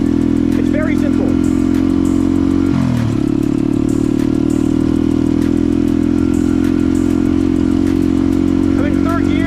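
A motorcycle engine drones steadily and loud while the rider upshifts from third to fourth gear, with a brief dip and change in pitch partway through. Someone talks over the engine noise throughout.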